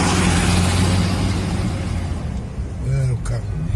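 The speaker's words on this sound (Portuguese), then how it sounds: "Era o carro lixo." Garbage truck passing on a city street, a loud low engine rumble and road roar that fades over a few seconds, heard from inside a car with chatter over it.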